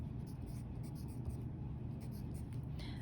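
Pen or pencil scratches down numbers, soft and close, a light scraping that runs on and off over a low steady background hum.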